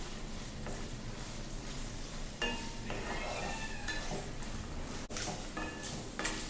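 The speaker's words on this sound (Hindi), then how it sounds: "पनीर को लाइट फ्राई करेंगे।" 200 grams of paneer being lightly fried in a kadhai, a soft continuous sizzle broken by spatula scrapes and metallic clinks against the pan, close and steady with no talk.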